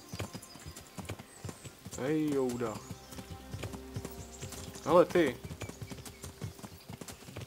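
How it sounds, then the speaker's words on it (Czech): Horse hooves clip-clop steadily in Kingdom Come: Deliverance, a medieval role-playing game, with a horse passing close by while someone talks over the hoofbeats. "On tady jede na koni."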